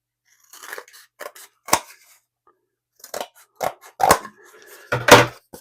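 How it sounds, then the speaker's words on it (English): Scissors trimming the edges of cardboard while packing an eBay order, several short, crisp snips in two clusters, close and clear with quiet gaps between them. "Got to trim the edges just a little bit."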